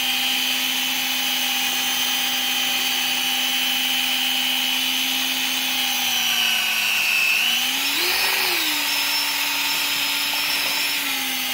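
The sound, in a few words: stirring sugar into wine must with a degassing stirrer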